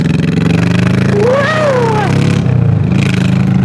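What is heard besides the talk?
Honda Shadow 1100 bobber motorcycle accelerating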